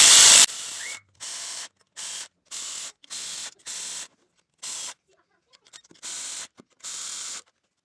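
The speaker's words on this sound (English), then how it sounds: "I'm just gonna snug these in with the ratchet" A ratchet snugs water pump bolts on a Chevy Sonic, heard as a sharp burst followed by short, evenly spaced bursts of rapid clicking separated by brief pauses, close and fairly loud, with no speech.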